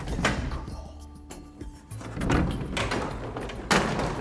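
Red doors at an Urban Campout venue in Tulsa opening, with a few knocks and clunks of the doors being handled amid room noise, fairly quiet and close.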